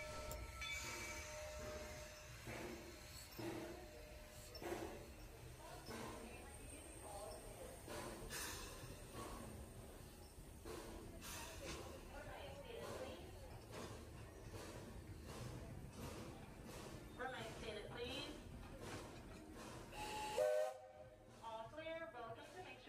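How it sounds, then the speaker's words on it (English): The Walt Disney World Railroad steam train at Magic Kingdom rumbles and clanks along the track for a long stretch, its wheels rattling, with a whistle sounding near the end; the recording is faint and people talk intermittently. "And this was our last train of the day."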